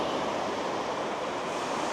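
Surf on a Pembrokeshire beach with the tide coming in, a steady broad wash of waves rolling onto the sand, continuous and fairly close, with light wind noise and no talking.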